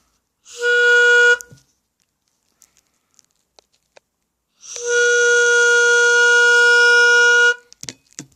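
Two loud, reedy tonal blasts from a whistle made from a conch shell, a short one then a longer sustained one, with quiet gaps and small clicks between.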